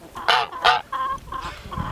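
A guard goose on a farm calling in a few short honking bursts close by, the sharp calls separated by brief pauses.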